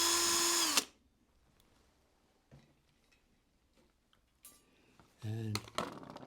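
Small power drill boring holes in a clamped model kit moulding, a sharp whining burst at the start and a second short burst near the end, with quiet handling in between.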